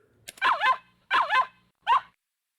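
A voice actor imitates a dog, voicing the pet Pipi in the visual novel Ever17: three short, close, yappy barks, the first two paired and the last one clipped, with quiet gaps between.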